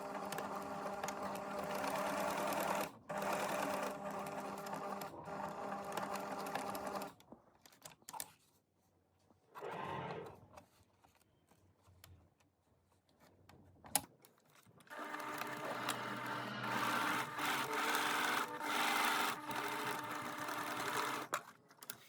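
Sewing machine stitching a seam on a gathered, tiered cotton-style sun dress: steady rapid mechanical whirring in two long runs, separated by a quiet pause with brief fabric handling, close and moderately loud.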